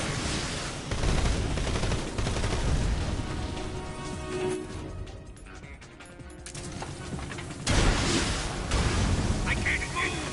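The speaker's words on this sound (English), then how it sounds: "Incoming missiles!" Missiles and heavy weapons fire in Metal Gear Solid Delta, a dense, loud roar of explosions and rapid gunfire that thins out in the middle before a fresh booming burst returns.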